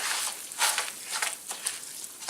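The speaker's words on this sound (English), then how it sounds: "And you'll hear it fizzing." Wet cat litter clay mixture, just stirred with an old file, fizzes softly as air escapes and bubbles up through the water, a faint, steady crackle with a few brief louder bursts.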